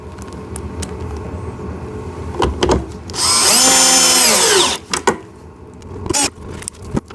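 A power drill drives screws into a ride-on RC car, with one loud sustained whir of about a second and a half amid scattered handling clicks and knocks.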